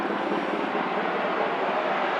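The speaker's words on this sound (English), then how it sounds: "It's a helicopter." A low-flying military helicopter roars loud and close, a steady, dense rotor and engine noise that fills the whole stretch without a break.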